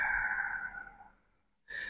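A long, slow breath let out through the mouth, a soft airy exhale that fades over about a second, followed by a brief fresh breath sound.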